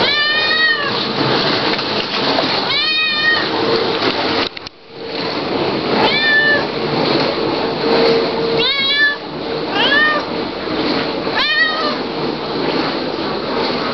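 Several cats meow repeatedly and insistently at feeding time, loud and close, with overlapping cries recurring every couple of seconds over a busy background and a brief clatter.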